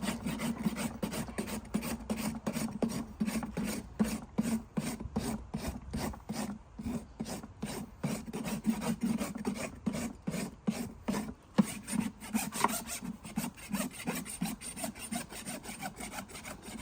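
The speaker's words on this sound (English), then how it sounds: "A quick dress of the hoof wall to tidy it up and we're ready to burn the shoe on." A farrier's rasp dresses a horse's hoof wall in firm, evenly spaced strokes, a dry, gritty scraping repeated steadily and close, with no talk.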